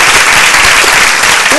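Loud, dense applause from a church congregation during a Christian service, steady clapping filling the whole moment up close with a voice faintly mixed in.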